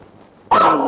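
After a quiet moment, a single loud, close dog bark bursts out sharply and rings on briefly.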